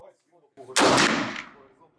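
A single loud gunshot cracks sharply and rings out in a decaying echo, preceded by faint murmuring.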